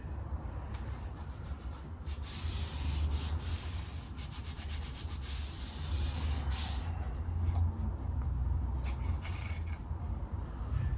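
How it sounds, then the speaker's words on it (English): Masking tape being rubbed down firmly onto a guitar fretboard blank to burnish it, giving a steady close-up scrubbing hiss with repeated brisk strokes throughout. "So masking tape down, rub it down to give it a burnish."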